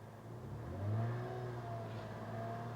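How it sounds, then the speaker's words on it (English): Car engine revved up to about 2,500 RPM and held there, a close, steady mid-pitched drone that swells as it climbs and then settles into an even hum. "you're gonna hear me rev this up here in just a second"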